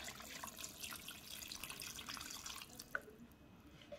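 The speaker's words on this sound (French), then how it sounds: "Ajoutez un peu d'eau." Water is poured into a pot of chicken soup with onion and garlic, a steady close splashing trickle that eases off near the end, with a single small drip-like plink and no voices.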